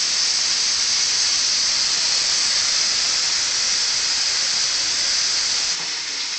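Tap water runs in a steady, even hiss while hands are washed after handling raw meat in a home kitchen during steak searing, close and continuous with no talking.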